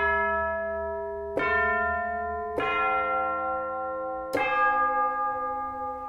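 Huge old bells about twelve feet tall ring out in three loud, separate strikes, each leaving a long, rich, humming decay that overlaps the next.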